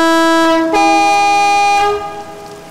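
A Class 390 Pendolino electric train in Train Simulator 2018 sounds a loud, sustained two-tone horn as it departs at night. The horn holds steady for about two seconds, then cuts off and leaves a low rumble, with no voices.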